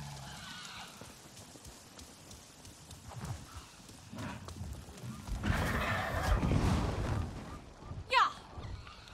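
A horse whinnies in the Avatar video game amid game ambience, with hoofbeat-like thuds and a swelling rumble, ending in a brief sharp neigh near the end; mostly moderate level with no clear voices.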